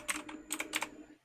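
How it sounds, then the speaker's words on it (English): Quick bursts of clacky keystrokes on a new computer keyboard, a few close taps in short clusters, crisp and fairly quiet. "Excuse my new keyboard sounds."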